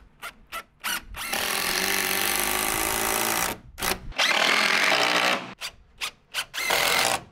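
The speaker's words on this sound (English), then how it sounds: "we're going to go ahead and put in a truss screw on all of these exterior walls here, everywhere the truss heel sits on the double top plate" Power driver spinning long truss screws through roof truss heels into the double top plate of an exterior wall, in long sustained whirring runs broken by short trigger blips, loud and close.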